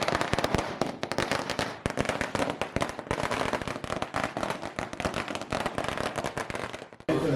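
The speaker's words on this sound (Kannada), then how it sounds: "ಪಟಾಕಿ ಹೆಚ್ಚು ಬಿಡೋದು" Dense, continuous volleys of firecrackers burst close by at a celebration for a film's re-release, sharp loud cracks overlapping rapidly for several seconds before cutting off abruptly.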